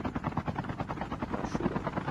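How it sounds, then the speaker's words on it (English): Helicopter in a battle royale video game, carrying one player, heard as a steady rhythmic rotor thump with a continuous whine, held at an even, moderate level throughout. "It's just one dude in this heli"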